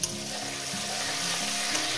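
Tomato frying in a pan with a dense, continuous hiss that holds steady for the whole stretch, close and fairly loud, with no voices.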